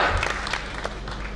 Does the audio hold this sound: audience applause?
yes